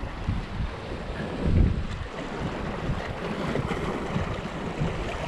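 Wind gusts steadily across a microphone on Durban's South Pier, a continuous low rushing buffet with a brief stronger gust, surf faintly underneath and no talk.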